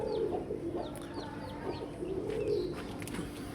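Pigeons kept at home coo in low, soft repeated calls, with short chirps from other birds scattered over a steady, fairly close background.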